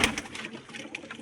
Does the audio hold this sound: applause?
no